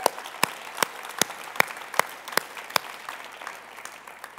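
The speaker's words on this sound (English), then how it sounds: "All right, let's clap for God." A church audience claps in slow unison, about ten sharp, evenly spaced beats over a soft bed of scattered clapping and crowd noise.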